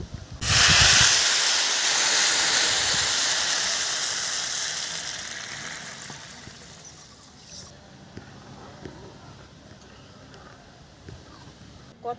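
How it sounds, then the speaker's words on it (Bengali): Water poured into a pan of fried rice for basanti pulao bursts into a loud, close hiss of steam, which fades gradually into a quieter simmer. "এখন আমি জল ঢেলে দেবো এর মধ্যে।"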